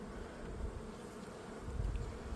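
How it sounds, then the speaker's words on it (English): Dense, steady drone of many honey bees in a hive during spring splitting, a continuous low buzzing that holds at a constant level throughout with no voices over it. "These bees are busy, busy workers."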